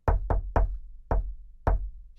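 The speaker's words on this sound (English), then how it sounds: "they heard a knock on the classroom door" Five sharp knocks on a classroom door, close and distinct, in an uneven rhythm: three quick raps, a pause, then two more spaced apart, with no talk.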